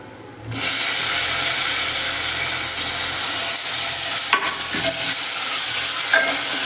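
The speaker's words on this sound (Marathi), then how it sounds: "टॅमॅटो चांगला परतून घेऊया आपण थोडं फोडणीमध्ये" Tomatoes sizzle loudly in a hot pan of spiced oil tempering, a continuous hiss with occasional scraping stirs, and no talking.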